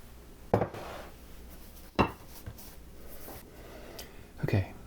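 Baking pans for a large cheesecake clatter on a hard surface in three distinct handling knocks, close and fairly quiet, with soft room noise between them.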